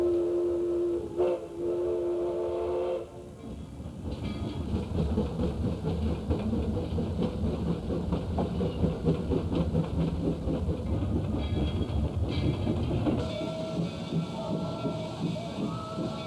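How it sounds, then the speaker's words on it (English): A steam train runs through Knott's Berry Farm amusement park, opening with a sustained whistle, then a steady rolling rumble and clatter for the rest of the stretch, fairly near and loud. "This great train, the first that dared penetrate the Rocky Mountains"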